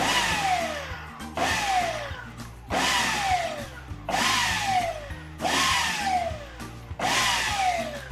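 A blender on pulse mixing banana blueberry bread batter, six short motor bursts in a steady rhythm, each spinning up with a falling whine and cutting off into brief pauses, loud and close.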